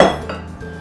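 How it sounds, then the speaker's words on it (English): A giant metal mixing bowl is picked up in a kitchen, giving one close, bright clank that rings briefly and then fades. "So we'll start by grabbing our giant mixing bowl."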